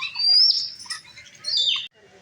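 Parrots at Lahore Zoo give shrill, bright chirps and squawks in a couple of close, loud bursts with a short pause between, set against a quiet outdoor background.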